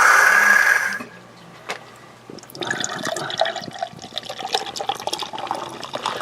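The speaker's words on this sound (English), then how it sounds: "It's getting thicker as the pour goes." Thick Drekker Black Forest Cake beer pours over a sink, starting with a loud gush of liquid, then a brief lull before an uneven stream of glugging and splashing resumes.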